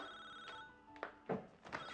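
A telephone rings indoors, a few short bursts of ringing with thuds and household noise mixed in, fairly faint.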